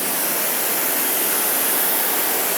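A steady, loud rush of water from a pressure hose rinsing soap from the paint of a Mercedes AMG GT, continuous broadband spray close to the car with no voices.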